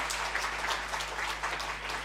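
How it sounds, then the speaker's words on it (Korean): A church congregation claps in welcome for newcomers during a Sunday worship service, a steady, dense round of applause that holds evenly throughout with no talk over it. "박수로 한번 환영할까요?"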